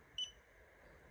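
A 980RTC OTDR fiber-testing device gives one short, high electronic beep as it powers itself off, faint against a quiet hiss.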